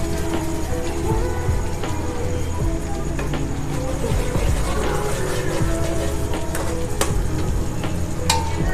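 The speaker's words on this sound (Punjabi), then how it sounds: "ਹੁਣ ਅਸੀਂ ਪਾਵਾਂਗੇ ਜੀ ਤੜਕੇ ਵਿੱਚ ਥੋੜੀ ਜਿਹੀ ਦਾਲ ਹੁਣ ਕਰਾਂਗੇ ਜੀ ਅਸੀਂ ਮਿਕਸ" Mixed dal is stirred into a hot tadka in a pot, with quick scraping and metallic clinks of the spoon over a steady sizzle.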